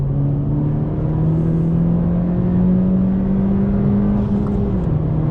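A 2020 Honda Civic Si pulls hard in third gear from 4,000 RPM, its engine note climbing steadily and loudly for several seconds with wind and road roar, before dropping at a shift near the end.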